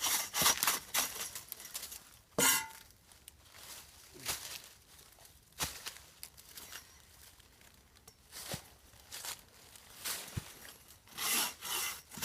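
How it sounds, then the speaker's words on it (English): A bow saw cuts firewood at a bushcraft hammock campsite, a close rasping back-and-forth stroke repeating in an irregular rhythm with short pauses between bursts, no talking. "I brought this bow saw."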